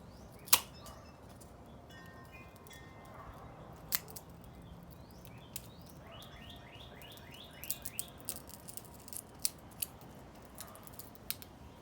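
Hand shears snip bamboo strips for coffee stirrers, giving close, crisp cuts: a loud snap early on, another near four seconds, then a quicker cluster of small clicks and snips, with faint birdsong in the background.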